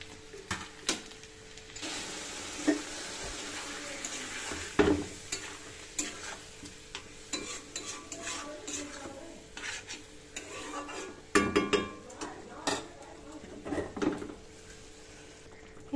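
Fish curry spice masala with chilli, turmeric, coriander and cumin powders sizzles and fries in a pan, with steady stirring and occasional sharp scrapes and clinks of a spatula against the metal throughout.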